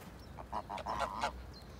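A few short, nasal honks from farmyard geese at a home poultry breeding setup, sounding fairly close in a quiet yard with no talk.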